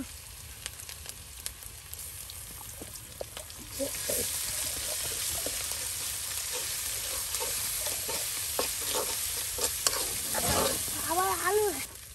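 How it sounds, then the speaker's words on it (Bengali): Ground spice paste of ginger, cumin, garlic and onion fries in a pan as it is stirred in a village kitchen, a faint steady sizzle with scattered scraping stirs that grows slightly louder midway. "এই যে আপনার মশলা কষানো হলো"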